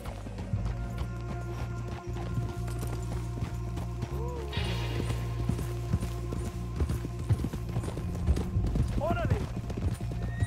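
Horse hooves clip-clopping at a steady walk in Red Dead Redemption 2, with a whinny, a low rumbling game backdrop and people talking throughout.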